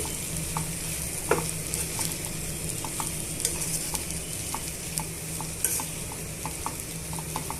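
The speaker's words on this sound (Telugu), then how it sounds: "ఇలా ఒక నిమిషం వేయించేసుకుందామండి" Okra, tomato, onion and green chilli fry steadily in a pan for a chutney, a continuous sizzle broken by frequent light spatula taps and scrapes against the metal.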